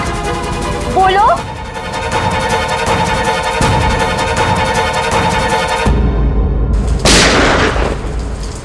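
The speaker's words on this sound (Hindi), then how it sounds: "ये तो पटाखों की आवाज नहीं लगती, ये कहीं गोली चली है।" Gunshots ring out during heavy rain amid Holi festivities, sharp loud bangs with a strong burst near the end, mixed with a sustained tonal music bed and rain noise.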